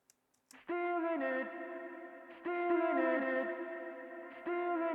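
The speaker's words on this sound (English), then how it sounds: "So I had to do the hard pan, the ping pong delay, just to fill that gap" A sustained, harmonically rich synth or guitar tone runs through an Echo Boy ping pong delay, with repeating echoes bouncing over three swelling phrases, upfront and with no voices.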